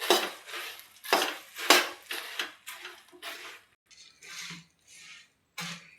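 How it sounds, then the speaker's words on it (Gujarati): Puffed rice being stirred into melted jaggery in a pan, with a series of uneven metallic scrapes and clinks of a spoon against the vessel, close and distinct, separated by short quiet gaps. "આપણે નાખતા જાવું થોડા મમરા અને હલાવતા જાવું"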